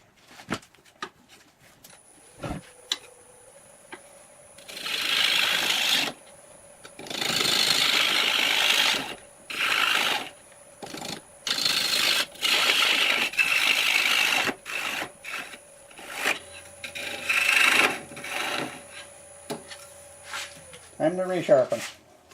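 Sandpaper pressed against a spinning madrone natural-edge bowl on a lathe makes repeated loud, hissing rasps in bursts of a few seconds, with the steady hum of the lathe running underneath.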